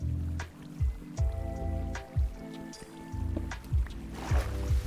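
Underwater currents in Minecraft flow in rhythmic, repeating low whooshing surges with soft bubbling and dripping textures, steady and fairly quiet with no voices.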